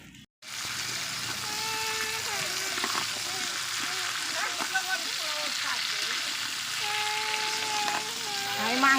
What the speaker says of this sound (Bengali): আমি মাংসের আলুটা ভেজে নিচ্ছি।